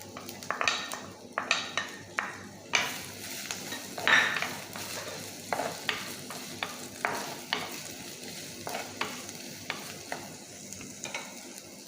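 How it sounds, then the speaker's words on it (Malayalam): Chopped onions frying in hot coconut oil for a yam masala curry, a soft sizzle beneath repeated clattering scrapes and knocks of a spoon against the pan, no voices. "ഇപ്പോൾ എണ്ണ ചൂടായി, ഇതിലേക്ക് നമുക്ക് അരിഞ്ഞ് വെച്ചിരിക്കുന്ന സവാള ഇട്ട് കൊടുക്കാം."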